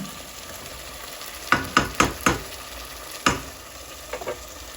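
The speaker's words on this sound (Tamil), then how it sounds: "லைட்டாக அப்பப்போ இந்த மாதிரி கிளறி விடுங்க" Chicken leg gravy stirred in a pan: a handful of sharp spoon scrapes and clacks, spaced irregularly over a steady low sizzle, fairly close and clear with no talking.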